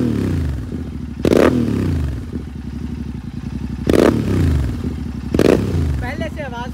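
A GT motorcycle engine is revved hard, a loud close throbbing roar with three sharp throttle blips rising over the idle and a brief scraping clatter near the end.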